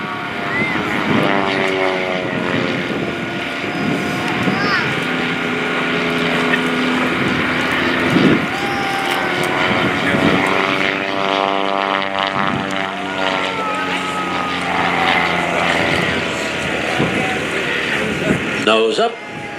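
A propeller airplane flown by Kent Pietsch drones through aerobatic maneuvers at the 2017 Melbourne Air & Space Show, its engine pitch rising and falling continuously as a commentator talks over it.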